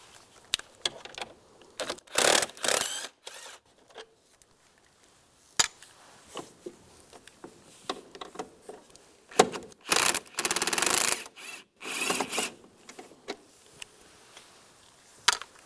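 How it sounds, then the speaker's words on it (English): Screws being backed out with a T20 socket while removing the blower motor from a 1998-2010 Volkswagen Beetle, heard as scattered close ratcheting and scraping bursts with quiet gaps between them. "using a T20 socket, take this screw out"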